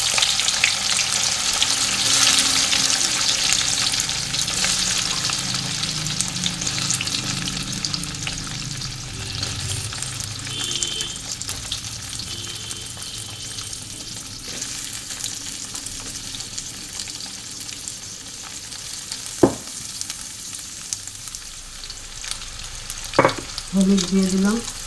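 Potatoes sizzling and frying in hot spiced oil in a pan, a continuous crackling hiss with occasional scrapes and clinks of a spoon stirring, no talking.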